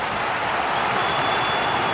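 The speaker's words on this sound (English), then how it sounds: "Well, the crowd are doing their bit." Stadium crowd noise from a FIFA 23 match between Deportivo Alavés and SD Eibar at Estadio de Mendizorroza, a steady, dense roar of cheering and applause filling the whole stretch without pause.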